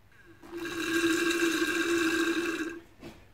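Old brake fluid spurts into a large jar while bleeding the brakes of a Peugeot 407 with an Eezibleed kit, making a steady, hissing, tonal liquid rush that lasts about two seconds and then stops abruptly.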